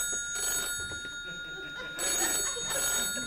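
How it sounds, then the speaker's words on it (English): An old-style telephone bell rings in repeated bursts with pauses between them, moderately loud, with faint voices underneath. "So if the phone rings around here,"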